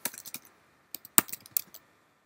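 A command typed on a computer keyboard: two short bursts of crisp, close key clicks separated by a brief pause, with a faint electrical hum underneath.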